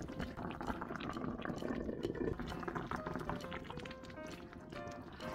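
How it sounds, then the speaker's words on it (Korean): Braised pork back ribs with aged kimchi simmer in a lidded pot over medium-low heat, giving a continuous close bubbling and gurgling at a soft level, with no speech. "이제부터 중약불로 맞추고 뚜껑 닫아서 은근히 푹 끓여줍니다."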